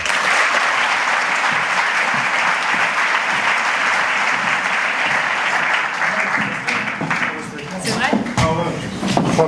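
Audience applause fills a hall at a launch event held at the Imperial Palace, loud sustained clapping that gradually thins out while a voice begins speaking near the end.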